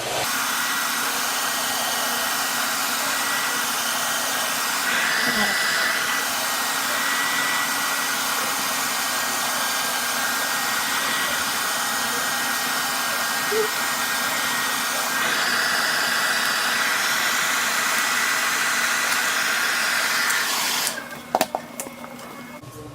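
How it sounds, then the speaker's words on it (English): A hair dryer on its low setting whirs steadily for a long stretch, used to remove a sticker, with a constant airy hum, shifting slightly in pitch, before clicking and rattling near the end. "Just grab a hair dryer. I use it on the low setting"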